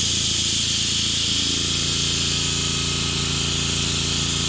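An airbrush spraying paint for metal-flake hot rod flames gives a steady, loud hiss that runs unbroken through the whole stretch, with a low compressor-like hum beneath it and no talking.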